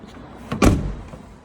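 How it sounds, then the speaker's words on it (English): A VW camper van's passenger door is opened, giving a single solid clunk of the latch and door near the middle, with a quiet mechanical rustle before it and no talking. "You do have to open up the passenger door in order to get that to open because of this little bar here."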